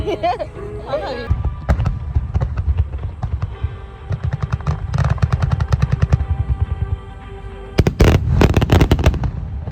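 Big aerial fireworks at the Nagaoka fireworks festival, rapid crackling bursts and booming pops in dense volleys, loud and near, with crowd voices and chatter mixed in throughout.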